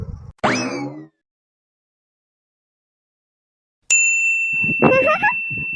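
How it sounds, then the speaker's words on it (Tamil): A phone message notification chimes twice: a short bright ding, a pause of silence, then another ringing tone, with a brief voice-like sound around the second chime. "டேய், மெசேஜ் வந்துருச்சு."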